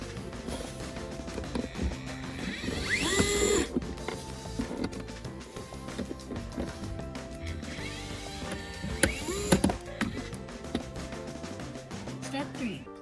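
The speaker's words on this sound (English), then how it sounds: "Step 2, remove the 2 Phillips screws." Two Phillips screws come out of a Jeep JL interior panel, heard as small, close, intermittent mechanical clicks, ratcheting and scraping from a screwdriver with brief handling rattles.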